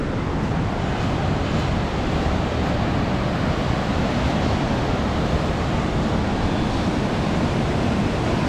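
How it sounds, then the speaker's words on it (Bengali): Hot spring water at the Manikaran Shiva temple bubbles and boils with a loud, continuous rushing roar and no break or voices. "গরম জল টকবক করে ফুটছে"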